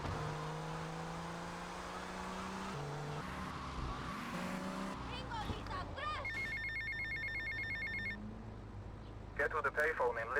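A payphone ringing in GTA Vice City, a repeating electronic trill starting midway through and chirping on toward the end, mixed with game engine noise and a speaking voice.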